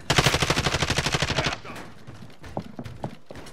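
A rapid burst of loud automatic gunfire in the video game Call of Duty: Modern Warfare, lasting over a second, followed by a few scattered, quieter shots and clatter.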